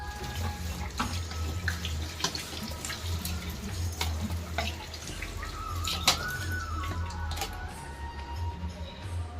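Running tap water splashes steadily over removable refrigerator parts being rinsed at a sink during a fridge cleaning, a continuous close hiss with occasional clinks of the parts.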